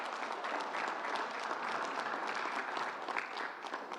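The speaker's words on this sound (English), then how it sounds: "Let's give a big round of applause." Steady applause from an audience at a public appearance in Rochdale Village, dense and continuous clapping heard from within the crowd, with no voices over it.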